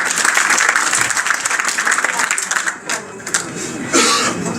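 A meeting audience in Casamance applauds, a dense, steady patter of clapping that fades midway, with a cough and scattered crowd noise as it thins, then swells briefly again.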